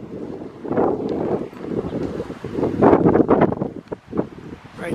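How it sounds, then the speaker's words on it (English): Gusty wind from a haboob dust storm near Green Valley, Arizona, comes in uneven surges that rise and fall, buffeting the microphone at close range for several seconds. "You can probably hear the wind blowing."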